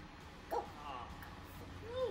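A sad dog in The Sims whimpers in two short high yelps, one early and a fainter drawn-out whine near the end, over a steady murmur of game background sound.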